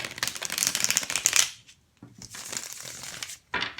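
Tarot cards being shuffled for a reading, brisk papery riffles and flutters in quick bursts with a short pause in the middle, close and fairly soft, with no voices.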